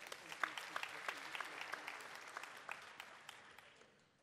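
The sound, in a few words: audience applause for the leadership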